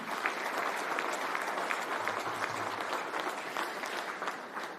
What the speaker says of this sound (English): What about a round of applause for all 5 of them?